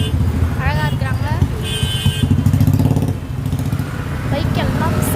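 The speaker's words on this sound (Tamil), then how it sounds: "பைக் எல்லாம் செம்மையாக மாதிரி கிளம்புது" Motorcycles pull away from a stop near SRM college, engines revving in short rising bursts close by, with horn-like tones and people talking over the traffic.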